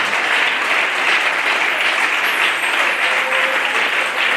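Dense, continuous applause with some cheering fills the room at a French-speaking church service, loud and steady throughout with no talk over it.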